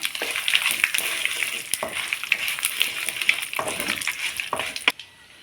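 Urad dal and about fifteen dried red chillies sautéing in a pan for chutney: a steady, close crackling sizzle with light stirring scrapes that cuts off just before the end.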